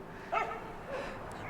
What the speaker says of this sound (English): Can you hear the dogs barking? They were barking all night long.